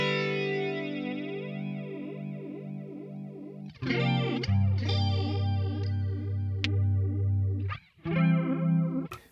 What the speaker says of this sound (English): Next round is the flanger, which does a similar sort of thing